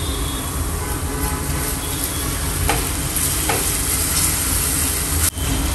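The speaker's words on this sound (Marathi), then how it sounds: "थोडंसं कांदा फ्राय होऊ देते" Sliced onion fries in a pan with turmeric and salt, producing a loud continuous sizzle with occasional scraping stirs and a sharp knock near the end.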